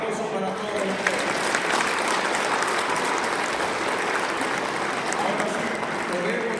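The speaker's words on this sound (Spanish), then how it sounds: "Un fuerte aplauso para todos ustedes." A large audience claps in sustained, dense applause, loud and even from start to finish, with no single voice standing out.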